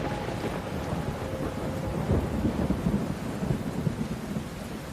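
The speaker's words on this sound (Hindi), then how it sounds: "ऊपर से इतनी तेज बारिश जो रुकने का नाम ही नहीं ले रहा था।" Heavy rain pouring steadily at midnight with low rumbling thunder rolling underneath, a dense, continuous wash of noise with no voices.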